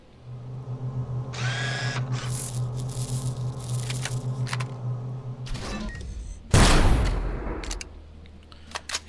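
Sniper rifle fire in the video game Empyrion: a whirring, drill-like mechanical drone gives way to one sharp, loud blast with a decaying tail, followed by scattered clicks.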